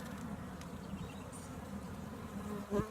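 Steady, dense buzzing of many honey bees on a hive frame bearing queen cells, close up, continuous and even throughout, with a brief knock at the very end.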